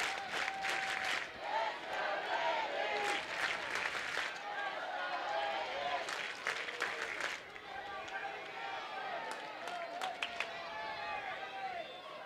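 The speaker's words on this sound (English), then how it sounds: "this is probably the most exuberant the Alabama crowd has been all weekend so far" Spectators at an Alabama college softball game against Florida roar and cheer, a steady loud crowd noise with bursts of applause and shouting that rise and fall across the span.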